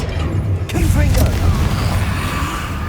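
A blasting spell explosion from the Hogwarts Legacy video game: a booming blast with a sharp onset, rumbling on through a loud low wash of game sound.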